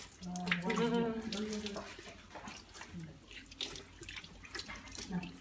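Tap water runs into a sink while rice is washed during home sushi preparation, a steady splashing stream with people talking over it.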